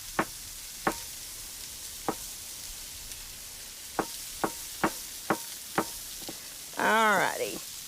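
Thin patties sizzle on a griddle under a steady soft hiss. Sharp utensil taps break in at irregular intervals, and a brief squeaky chirping burst comes near the end, with no talking.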